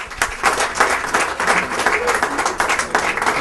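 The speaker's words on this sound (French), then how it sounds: "on peut l'applaudir très très fort" A crowd gives enthusiastic applause for a man named Thierry at a gathering, thick and close clapping with surging bursts throughout the short stretch.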